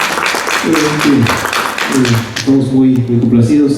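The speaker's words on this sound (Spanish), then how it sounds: "Un aplauso a Lupita." Applause from an audience at a book presentation in Mexico for a reader named Lupita, fairly loud and close, with someone speaking over the clapping.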